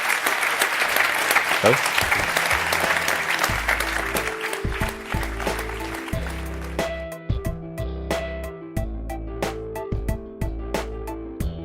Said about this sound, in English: One last huge round of applause.